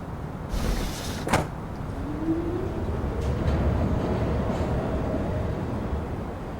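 A train rolls through a cozy nighttime Gmod map, its steady rumble joined by a sharp clack and a door sliding, then a rising whine as it moves along.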